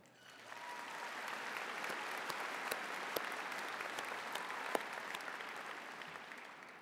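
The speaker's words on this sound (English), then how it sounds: "Let's hear some applause for that." An audience at a high school commencement ceremony breaks into sustained applause, swelling quickly after a brief quiet start and holding a full, even roar of many hands clapping through to the end.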